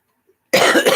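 One short, sharp cough from a person, loud and close, breaking a half-second of near silence.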